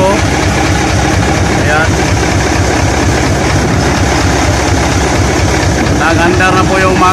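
A Fuso 8M20 diesel engine in a dropside truck runs steadily at idle after a suction strainer cleaning, a loud continuous rumble that fills the whole stretch while someone speaks over it.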